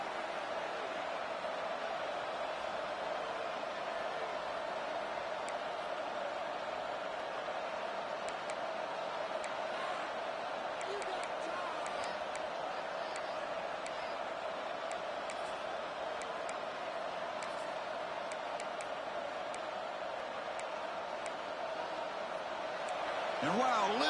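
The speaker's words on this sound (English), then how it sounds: "And wow, listen to this crowd noise. This stadium is vibrating." Steady, dense crowd roar fills a stadium in a college football video game, FSU against SMU, holding as a constant wash throughout with faint ticks above, while a commentator speaks over it.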